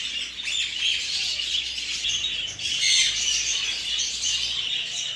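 Pet birds on a small farm call and squawk continuously at close range, a dense chorus of chirps and shrill calls over a faint low background.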